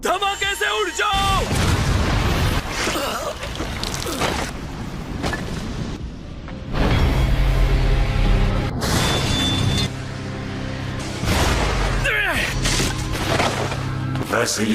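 A loud explosion and crashing impacts in an anime fight scene, with heavy booming bursts and rumbling debris over dramatic music, and voices speaking Hindi in between.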